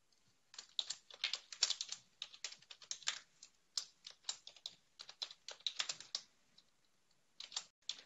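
Fingers typing on a computer keyboard, rapid irregular clicks in bursts with short pauses, close and fairly quiet, no talking.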